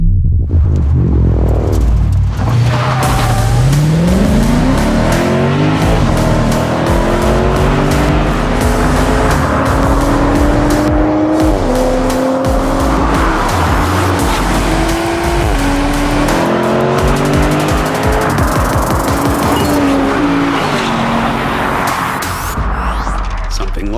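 Drag race between a 1400 hp Toyota Supra with a 2JZ engine, a BMW M4 with an S58 engine and a Lexus sedan with a V8, with loud roaring engines revving up through rising gear shifts, close and continuous, with tire noise.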